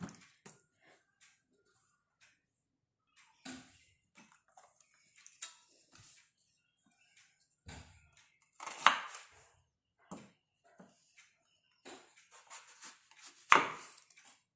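Raw green banana sliced with a knife in a quiet kitchen, giving sparse soft chops and cuts with a few louder, sharper knocks of the blade against a board, separated by long near-silent gaps.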